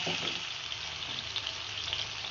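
Mutton frying in oil in a karahi, a steady close sizzle with a constant hiss and no talking.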